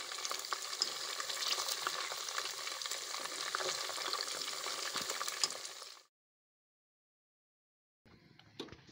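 Fish sizzles and crackles steadily while frying in a pan for a fish curry, a dense close hiss that cuts off abruptly before a faint return of frying.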